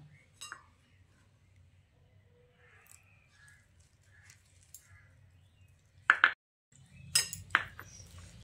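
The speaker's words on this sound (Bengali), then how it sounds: "প্রথমে আমি এই বেসনটার মধ্যে অল্প অল্প জল দিয়ে ভালো করে মেখে নেব" Gram flour (besan) worked with water in a bowl: a few sharp spoon clinks against the bowl come late, over a low, steady background hum, quiet and close.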